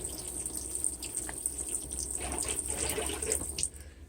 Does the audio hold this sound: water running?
yes